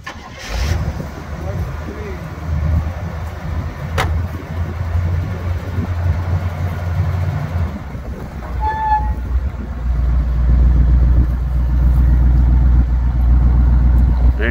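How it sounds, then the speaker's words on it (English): A 1953 sedan delivery at an auction in Huron, South Dakota, starts up and idles with a low rumble, then revs louder as it pulls ahead. A person talks over the engine early on. "we'll fire it up here real quick and just pull it ahead for you so you can see it runs and drives"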